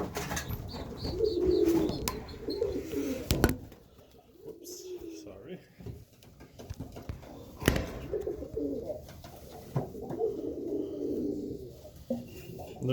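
Racing pigeons coo in a loft, soft repeated coos close by over a quiet background, with someone talking at intervals.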